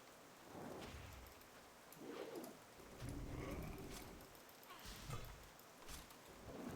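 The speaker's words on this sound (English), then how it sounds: "We're just gonna listen to the rain for a while." Steady rain ambience from World of Warcraft, a continuous hiss of falling rain with faint bird calls and possible cooing, heard alone at a soft, even level without music.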